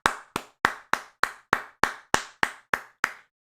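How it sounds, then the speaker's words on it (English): A single pair of hands claps eleven times at a steady, brisk pace, each crisp clap close and loud, ending in silence. "Everybody give Rose Malay a round of applause"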